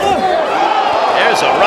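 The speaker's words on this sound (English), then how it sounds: "Oohs and ahs by the crowd here in Phoenix." Boxing arena crowd in Phoenix at the Benavidez vs. Davis fight, a continuous roar of oohs and murmurs rising and falling beneath a commentator's voice.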